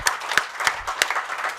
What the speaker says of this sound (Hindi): एंड प्लीज एक तो बनती है ताली जबरदस्त.